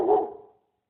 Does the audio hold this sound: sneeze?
no